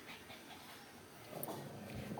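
A Shih Tzu dog growls faintly and steadily, swelling slightly louder toward the end, with no one talking.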